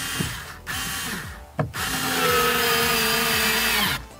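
A screw being tightened on a Ford Fiesta Mk7 rear door speaker with a power driver, short whirring bursts with ratcheting clicks and brief pauses between them, heard close up.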